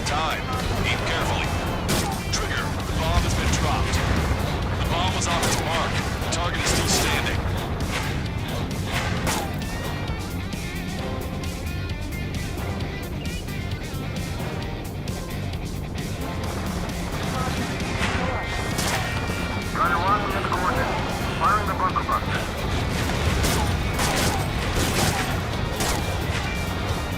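Bunker buster bombs explode in the video game Ace Combat 7 as dense, continuous rumbling blasts and crashes, with voices talking over them throughout.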